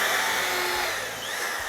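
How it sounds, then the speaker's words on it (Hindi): An electric drill boring into a wide plywood sheet, a steady high whirring motor whine that dips slightly partway through, close and loud with no talking. "प्लाईवुड जो है चौड़ा है ये, और इसके ऊपर कितनी आसानी से आप ड्रिल कर सकते हैं।"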